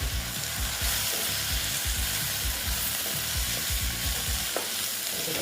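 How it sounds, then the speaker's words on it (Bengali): Green chilli and chilli powder are stirred into besan-coated bhindi frying in oil, a constant sizzle under repeated scraping, rhythmic strokes of a spatula against the pan, close by. "দিচ্ছি কাঁচা লঙ্কা দিয়ে এটাকে আবার একটু নেড়ে চেড়ে নিচ্ছি"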